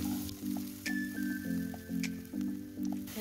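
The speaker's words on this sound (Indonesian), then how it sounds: "pertama kita tumis bawang putihnya sampai halus. Bawang merah dan cabe ya teman-teman." Garlic, shallots and chili sautéing in a pan give a faint, steady sizzle, with soft rhythmic scraping and stirring over it and a few light clicks.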